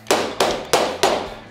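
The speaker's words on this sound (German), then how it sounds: "Ich tue halt einmal gerne so ein Tellerchen drehen aus Alu und klopfe das hier rein." A turned aluminium cap is hammered into a Sachs 50/3 moped engine, with four sharp metallic knocks at an even, unhurried rhythm, each close and loud with a short decay.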